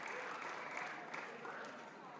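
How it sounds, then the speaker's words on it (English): A crowd at Buckingham Palace claps for saluting musicians during VE Day 80th anniversary celebrations, steady applause heard at a distance under a reporter's voice. "PM's applauding now, applauding the musicians who are saluting him."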